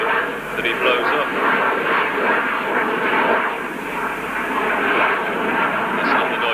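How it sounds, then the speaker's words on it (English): Low-flying aeroplane on approach to Humberside Airport, a steady loud broadband roar of engines filling the air throughout, with a voice talking over it. "That's not the noise of the runners, by the way, that's an aeroplane"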